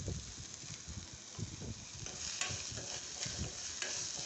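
Steady frying sizzle of onions sautéing in a pan with occasional stirring scrapes, close and continuous, no voices.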